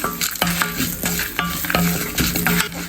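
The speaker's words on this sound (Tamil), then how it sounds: "இதை மீடியம் ஃப்ளேமில் வச்சு வணக்கினா போதும்" Curry leaves, garlic and a little tamarind sauté in a pan over medium flame for drumstick-leaf thuvaiyal, with a steady close sizzle and repeated scraping stirs of a utensil through the pan, no talking.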